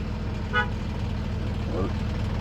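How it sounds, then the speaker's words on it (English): A truck horn gives a short honk during a pre-trip inspection, heard once and briefly over steady low engine rumble, with a faint second tonal blip later. "Honk."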